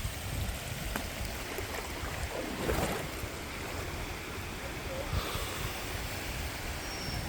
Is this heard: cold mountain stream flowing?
yes